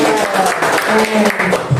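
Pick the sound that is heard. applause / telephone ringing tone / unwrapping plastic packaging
applause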